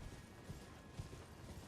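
Horse hooves clip-clopping in the video game Elden Ring, a few soft, evenly spaced thuds in the low range that sit under a steady bed of game ambience.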